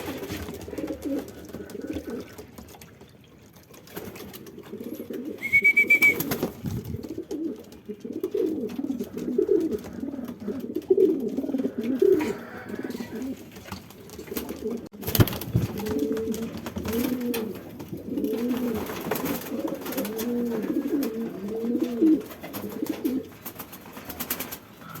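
Racing pigeons coo in repeated soft, throaty bursts after release during a Talavera, Nueva Ecija training toss, the calls rolling continuously at moderate closeness with brief clatter and a short thump midway.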